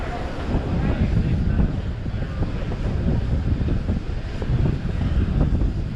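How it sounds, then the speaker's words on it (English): Strong wind buffets the microphone with a constant low roar and rumble at the Panama Canal locks, steady throughout with no clear voices. "So it's quite windy"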